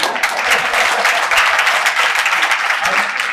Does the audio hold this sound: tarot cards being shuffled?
no